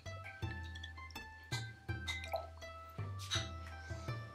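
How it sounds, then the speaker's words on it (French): Daikon, konjac and other oden ingredients dropped one by one into simmering broth, giving soft, close splashes and plops at irregular intervals over a quiet background. "On ajoute au bouillon le daikon"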